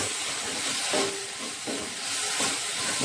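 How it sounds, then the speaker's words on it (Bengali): Spices and two bay leaves frying in oil for an aloo phulkopi fish curry give off a continuous close sizzle and hiss, swelling and easing in a few soft pulses. "তো মশলাগুলোকে আমি একটু ভালোভাবে কষিয়ে নেব এখন।"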